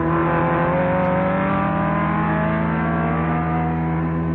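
Racing car engine in a radio drama scene, a steady loud sustained drone with shifting harmonic pitch as it passes, running continuously without any voices.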